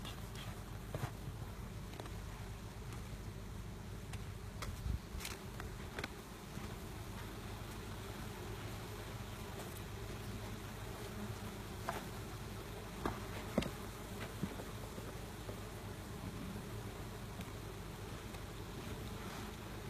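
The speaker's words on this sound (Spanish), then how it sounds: "Estamos revisando otra colmena" Honey bees drone steadily at an open hive during an inspection of the brood chamber, a continuous low hum with faint scattered clicks and handling noises and no voices.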